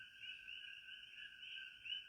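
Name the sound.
coqui frogs calling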